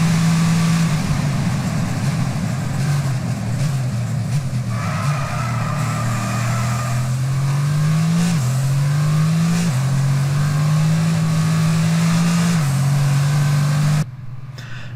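A supercar engine in the F1 22 racing game accelerating hard toward the finish line, a loud, close, continuous engine roar that climbs in pitch through several quick gear shifts, with no talking.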